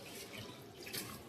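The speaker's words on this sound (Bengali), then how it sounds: "আমার বাইর বউ আর কি ডাল ধুয়ে দিতেছে।" Running tap water pours steadily while lentils are rinsed in a kitchen, a continuous low splashing wash with brief brighter spatters near the end.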